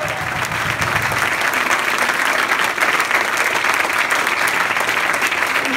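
An indoor event audience breaks into continuous, even applause, a dense wash of many hands clapping at steady loudness throughout.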